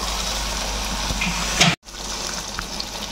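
Duck meat fries in a pan with ginger, salt, turmeric, Kashmiri chilli and roasted spice mix, giving a steady close sizzle and hiss. A clatter of stirring comes just before a brief cut, then the frying continues evenly.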